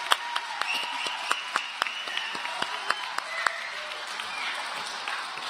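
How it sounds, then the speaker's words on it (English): Applause for inductees at an Alpha Chi and Delta Mu Delta induction ceremony, scattered distinct hand claps over a soft continuous patter from a modest audience, thinning out toward the end. "let's have one big round of applause for all of our inductees, both in person and online"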